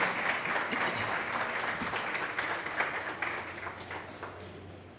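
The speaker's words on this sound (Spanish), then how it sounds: "Por favor, un aplauso para el hermano." A congregation applauds a pastor welcomed to the stage at a prayer conference, a steady wash of clapping sustained for the full five seconds and fairly even throughout.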